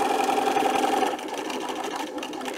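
A sewing machine stitches and back-stitches a fabric face mask, a close, fast mechanical hum that shifts slightly in pitch partway through as the direction changes.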